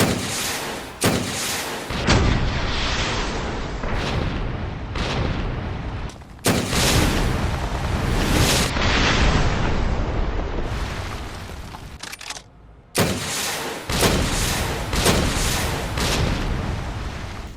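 Repeated rocket launcher explosions in Resident Evil 2 Remake, a string of loud, booming blasts and long rumbling roars in quick succession with brief gaps between, close and overwhelming with no talk.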